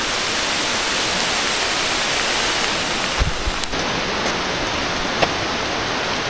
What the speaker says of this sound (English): Cascada San Juan waterfall.